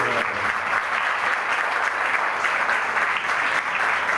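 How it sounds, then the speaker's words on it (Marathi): Loud, dense applause from an audience honouring teachers seated on stage at a Teachers' Day event, steady and unbroken throughout, with no voices over it. "त्यांच्यासाठी अगदी मनापासून अगदी हृदयापासून एकदा जोरदार टाळ्या त्यांच्यासाठी"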